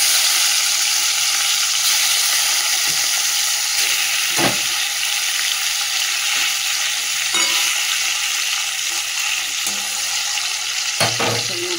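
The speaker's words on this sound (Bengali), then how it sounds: "এবারে মাছটা ভেজে নিচ্ছি।" Fish fries in hot oil with a steady, bright sizzle and occasional clinks and stirring sounds, heard close and alone.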